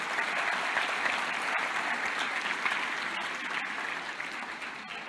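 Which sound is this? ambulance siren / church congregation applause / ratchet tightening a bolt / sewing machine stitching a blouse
church congregation applause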